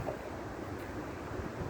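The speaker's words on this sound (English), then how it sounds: "It's windy and cold, man, today" Wind blowing hard and cold beside a river: a steady, close broadband rush with microphone buffeting and no speech.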